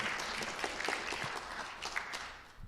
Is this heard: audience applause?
yes